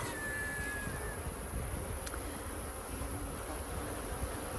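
Honey bees buzzing around an open, crowded hive beside a half-acre pond: a dense, continuous drone that stays steady throughout, close and fairly loud, with no talking.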